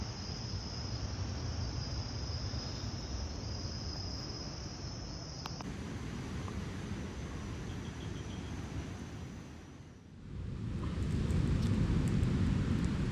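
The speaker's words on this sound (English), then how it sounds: "Looks like we got some crickets inside too." Crickets chirp in a continuous high shrill from inside a crab hole on St Croix, the steady trill dropping away partway through as a broad windy rush swells.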